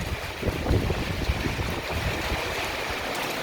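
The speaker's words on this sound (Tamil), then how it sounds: "வெகுவாக பெய்து கொண்டிருக்கும் மழை பலத்த காற்றுடன் பெய்து கொண்டிருக்கிறது" Heavy rain driven by strong wind pounds down during a cold downpour in Panruti, a dense, steady roar of water and gusts that fills the whole moment with no voices.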